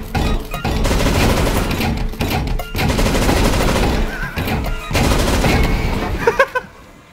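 Automated turret gunfire in Counter-Strike: Global Offensive: rapid, loud bursts of fire rattling continuously with brief gaps, cutting off near the end, while players chat in the background.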